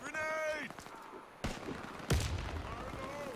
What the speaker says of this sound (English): Oh, they throwing back grenades